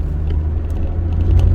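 Mk.1 Ford Focus engine droning steadily from inside the cabin as the car is pushed through a roundabout, a low continuous rumble with no voices.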